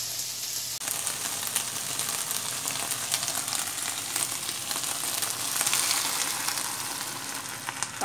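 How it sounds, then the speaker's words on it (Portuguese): Chicken fries in a pan with garlic and salt, giving a loud, continuous sizzle that jumps up in intensity a moment in and keeps crackling steadily, with no voices. "fritando o franguinho só com alho e sal"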